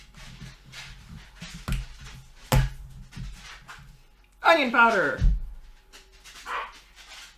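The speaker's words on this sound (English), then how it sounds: "You can probably hear my dogs fighting in the background this whole time," Pet dogs playing and play-fighting indoors, heard as scattered barks, yips and a whimper in the background while a person talks over them in a home kitchen.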